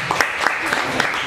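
A small audience at a business networking coaching session gives a short round of scattered, fairly faint hand claps with a few distinct individual claps.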